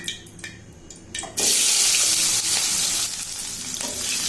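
Cut plantain pieces are poured into hot oil in a kadai. A few light clinks and scrapes are followed by a sudden loud rush of bubbling sizzle that stays strong and close, with no talking.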